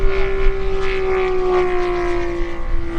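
A Seagull Model 87-inch F4U Corsair RC plane with a radial engine drones loudly overhead as the throttle rises, a steady propeller hum holding one strong pitch throughout.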